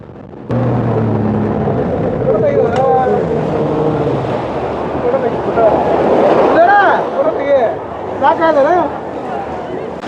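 Speedboat ride at Rushikonda Beach in Vizag, the boat leaping over waves: loud rushing wind and water noise with engine roar, surging in bursts as the hull slams, with people's voices and shouts mixed in.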